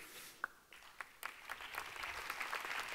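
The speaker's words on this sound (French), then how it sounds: "c'est une technique pour se faire applaudir plus longtemps" Audience applause for a mayor at a New Year's wishes ceremony, starting with a few scattered claps and swelling into steady, fairly quiet clapping from a crowd.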